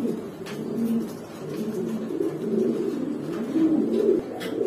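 Baghdadi homer pigeons cooing close by, repeated soft low throaty coos in overlapping phrases over faint background noise.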